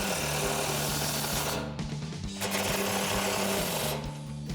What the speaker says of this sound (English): Now we just need to tighten down our bolts. Let's take a 17mm socket and wrench to do that.